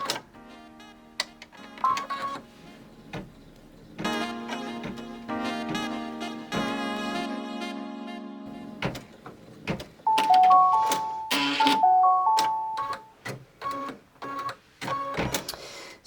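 A sewing machine stitches a pendulum mat in quick mechanical bursts, with rhythmic clicking and whirring and steady thread-feed chatter that stops and restarts several times at close range, with no voices over it.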